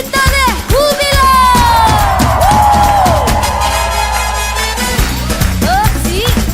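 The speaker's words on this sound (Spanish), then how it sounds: "Un grito de júbilo." A group singing a joyful song together with music swells into a loud communal shout of joy, voices and instruments blending densely throughout at close range.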